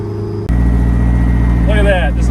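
Engine fitted with a big propeller and spinner, idling smooth and steady at close range, a loud continuous low hum with a sudden change in tone near the start and a brief higher whine toward the end.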